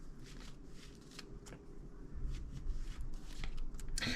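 Tarot cards are shuffled close by, giving a soft, continuous riffling and flicking of card stock that gets slightly louder and denser toward the end. No voice is heard.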